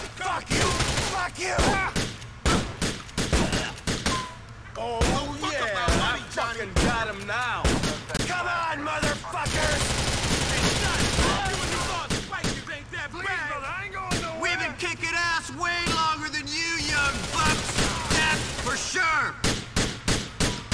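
Gunfire in Grand Theft Auto IV during a police shootout: rapid, loud bursts of shots in dense volleys throughout, with someone talking over much of it.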